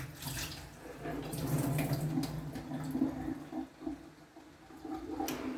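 Water drains steadily from a Pureguardian humidifier tank and splashes into a basin, a continuous close rushing flow with some gurgling and slight variations in strength.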